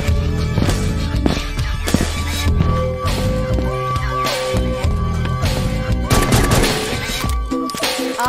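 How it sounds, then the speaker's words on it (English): Gunfire in the video game Eximius, with rapid bursts and scattered shots cracking over an ongoing battle mix, loud and continuous. "Our base is under fire. The enemy is assaulting our base."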